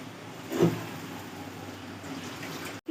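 Water poured into a pan of cooked-down spiced masala for poa fish bhuna starts with a short splashing burst, then gives way to a steady, even wash of bubbling liquid sound.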